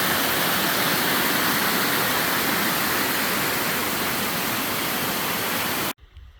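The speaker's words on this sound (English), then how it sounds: "And then we got the water coming out from under the snow as it melts." Meltwater gushes out from under the snow as it melts, a steady, loud broadband rush of flowing water that holds constant for about six seconds and then cuts off abruptly.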